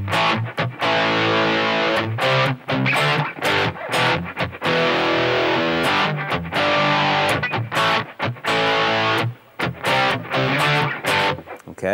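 Distorted electric guitar chugging power chords in a breakdown, a loud close riff of repeated chord stabs with short muted gaps between phrases, no talking.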